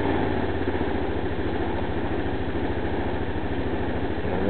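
A 260cc XY260T-4 scooter engine idles steadily and loudly up close, with a continuous low rhythmic chug and no voices.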